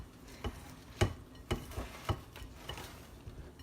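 Buttermilk being stirred into a wet biscuit dough in a bowl, heard as sharp irregular taps and scrapes of the spoon against the bowl roughly every half second, up close, with no talk.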